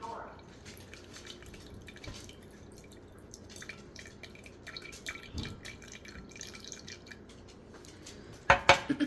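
Sourdough starter stirred with water in a jar: soft, irregular wet clinks and scrapes of a utensil against the glass, quiet and close, with a few sharper taps near the end.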